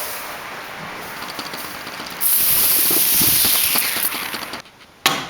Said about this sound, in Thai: และตอนนี้ ก็ฉีดสเปรย์ใส่ ทั่วห้อง